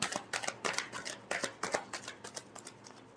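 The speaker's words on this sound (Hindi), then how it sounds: "Last shuffle." Tarot cards being shuffled by hand, a quick run of soft riffling flicks and taps in an irregular rhythm, close and fairly quiet with no speech.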